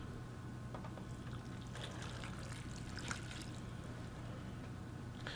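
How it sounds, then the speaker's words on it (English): Leftover cooking juice poured from a container over smoked pulled pork, a soft, steady liquid trickle with faint splashes, continuous and close under a constant low background hum. "We're going to pour a little bit of this juice in here and then mix it in."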